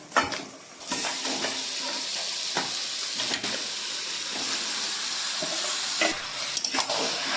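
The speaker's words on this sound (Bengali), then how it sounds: "এবার মশলা মাখিয়ে রাখা হাঁসের মাংসটা দিয়ে দেবো" Spiced, marinated duck meat goes into a pan of frying onions, giving a loud continuous sizzle and hiss with scraping stir sounds and a few clattering knocks throughout.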